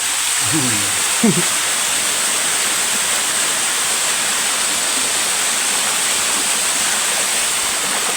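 A steady, broad rush of falling water fills the scene, constant and close, with a brief voice-like murmur early on.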